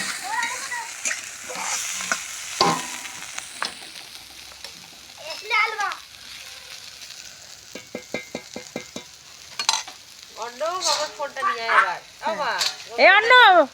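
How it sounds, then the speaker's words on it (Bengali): Slices of bitter gourd frying in a pan give a soft, intermittent sizzle, while children and adults chatter loudly over it in a village home. "এখানে করলা ভাজা হয়ে এসেছে এবার নামিয়ে নেবো"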